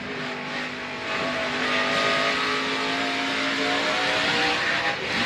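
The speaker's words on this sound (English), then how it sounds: "You can hear the rear tires spinning on that 29 truck." NASCAR Truck Series race trucks at Iowa roar past with rising, revving engine tones while rear tires spin and squeal, loud and close, sustained across the whole stretch without commentary.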